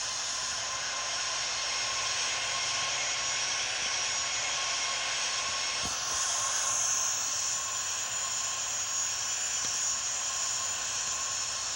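An Airbus A321 jet takes off in a flight simulator game, a steady broad turbine roar and hiss that stays constant and fairly loud, swelling slightly midway.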